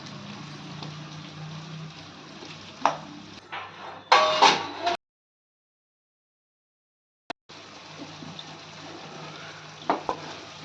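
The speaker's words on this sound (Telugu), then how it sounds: "వంకాయలు బాగా పోసి బాగా కింది మీద కలిపి కింది మీద కలిపిన తర్వాత కొంచెం మూత పెట్టుకోవాలి" Stuffed eggplant curry is stirred in a pan, with a low sizzle and sharp bursts of spoon scraping, broken by a stretch of complete silence midway before the soft cooking noise resumes.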